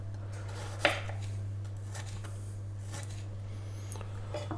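A knife cuts a large garlic clove on a board: one sharp, close chop stands out, followed by a few softer cutting strokes over a steady low electrical hum, no talking.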